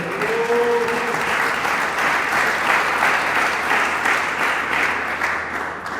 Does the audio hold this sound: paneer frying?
no